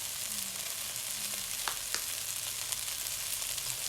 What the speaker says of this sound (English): And I will roast rice before adding milk.